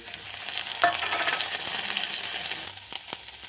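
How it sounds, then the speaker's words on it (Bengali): Ginger-garlic paste and fried onions sizzle steadily in a hot pan, with a sharp utensil clink near the start and soft stirring scrapes, no talking. "এখানে আদা রসুন পেস্ট করেছি, এখানে পেঁয়াজ ভাজা হয়ে গেছে, তাতে দিয়ে দিলাম"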